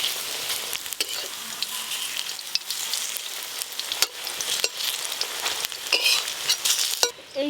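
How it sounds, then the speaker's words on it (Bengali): Prawn fritters fry in hot mustard oil in a wok, giving a steady, loud, close sizzle dotted with sharp crackles and pops throughout, with no talking. "এবার বড়াগুলো ভেজে নেব"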